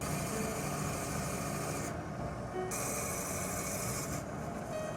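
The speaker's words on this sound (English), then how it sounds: "we're gonna bring it over to our diamond bandsaw" An aquarium diamond bandsaw cutting through coral for propagation makes a steady, dense grinding whir, close and loud, with the brightness of the cut shifting a couple of times as the blade bites.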